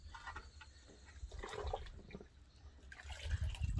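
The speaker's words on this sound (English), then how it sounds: "all I'm using here to clean this is, as you can see, an old rag and a bucket of water" Sloshing and dripping water as a car's air intake part is scrubbed with an old rag in a bucket of water, close up with irregular splashes and trickles.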